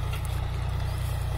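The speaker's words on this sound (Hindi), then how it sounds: "ये देख सकते हैं आप अपनी साइड जॉनडियर ट्रैक्टर आता हुआ" A John Deere 5205 50 hp tractor with a simple pipe silencer, giving a steady, fairly loud low diesel chug with rapid even pulses and no talk.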